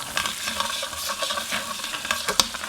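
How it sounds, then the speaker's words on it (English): Garlic sizzles in melted butter in a skillet, a close, crackly fry punctuated by quick clicks and scrapes of a utensil stirring through the pan. "Let's hit it with some garlic. I'm going to cook this for about a minute."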